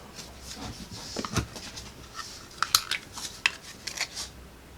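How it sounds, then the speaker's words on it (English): A handheld paper punch working through a small piece of cardstock, with quiet scattered clicks, a sharp crunching snap partway through, and light paper handling around it, close and faint. "Let's cut out, using our punch, a little piece of cardstock."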